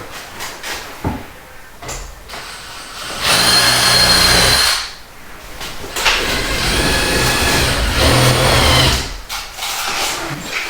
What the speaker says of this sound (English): we're gonna have to drill on these sides and put our set screws in